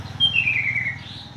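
Small birds chirp and call in a thin, continuous twitter, moderately loud over a low background rumble, with no talking.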